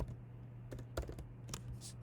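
Quiet, scattered keystrokes on a computer keyboard as code is typed, a few irregular clicks in quick succession.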